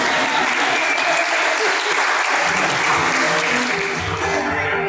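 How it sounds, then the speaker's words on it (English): A crowd at a charity event applauds the Ghostbusters in sustained, loud clapping that carries through to the end, with crowd voices mixed in beneath. "We need to make sure we give them a round of applause"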